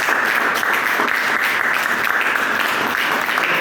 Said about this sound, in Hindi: एक बार जोरदार ताली के लिए बजा लीजिए आप लोग